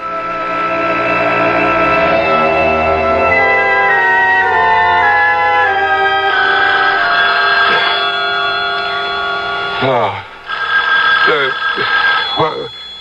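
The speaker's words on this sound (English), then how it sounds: "The phone." An old telephone bell rings loudly in repeated bursts in a radio drama, with dramatic music and voices around it.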